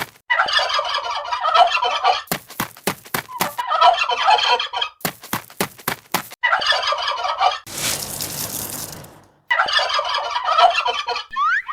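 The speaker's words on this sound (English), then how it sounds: "Turkey." Turkey gobbles come in several loud bursts separated by short gaps, near and alone with no talk, on a farm setting.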